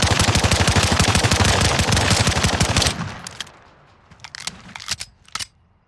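Pistol gunfire in Call of Duty Warzone: a rapid string of loud sharp shots for about three seconds, then a few scattered single shots and clicks trailing off.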